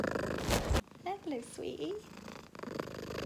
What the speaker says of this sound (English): I've got a little cat down here keeping me company